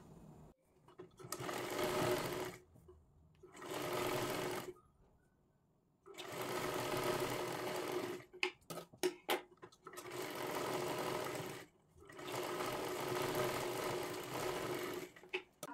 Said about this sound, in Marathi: त्याच्यावरती परत एकदा डबल शिलाई मारून घ्या